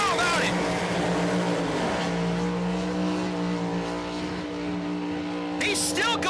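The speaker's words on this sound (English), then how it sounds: "These guys are doing great burnouts." A drag race car doing a burnout at a nostalgia nitro funny car event, a loud sustained engine roar with shifting harmonic tones and tire noise filling the clip, with crowd sound in the background.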